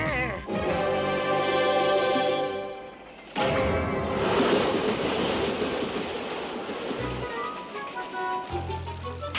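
A cartoon train rolling on its rails, a loud continuous rumble and clatter with a steady whistle-like tonal hum that drops out briefly, then resumes with rhythmic wheel noise through the rest.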